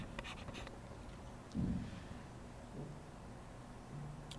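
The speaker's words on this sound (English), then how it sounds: "So I'm going to write down this." A pen scratches across paper in short strokes while notes are written during a finance tutorial, faint and close against quiet room noise.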